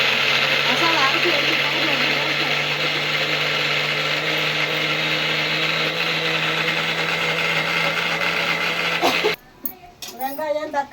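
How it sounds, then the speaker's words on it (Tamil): A mixer grinder whirs at a loud, steady high-pitched drone while grinding masala for a village-style chicken curry, then cuts off abruptly near the end, followed by brief rattling and a voice. "இப்போ மசாலா அரைச்சிக்கலாம்."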